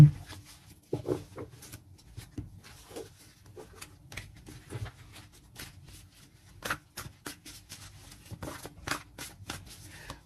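Tarot cards being shuffled by hand for a new spread, a soft run of riffling and sliding card sounds with brief bursts and pauses, fairly quiet and alone without talk.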